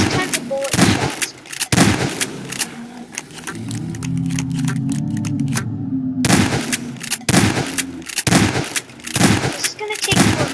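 Gunfire in the video game Garry's Mod comes in dense, rapid bursts of loud repeated shots nearly throughout, with a brief lull in the middle and a voice talking faintly underneath.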